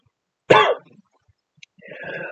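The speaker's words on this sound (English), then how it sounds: "Oh my god, sorry for the cough," A single sharp cough bursts out close to the mic while someone cooks a very spicy ramen, then trails into a breath, and after a short quiet a voice begins speaking.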